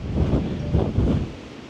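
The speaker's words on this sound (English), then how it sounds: "I was ready for the cold, but I wasn't ready for this wind." Strong cold wind at a highway pull-off along the Seward Highway in Alaska, loud gusty roar buffeting the microphone in a few surges, with no speech.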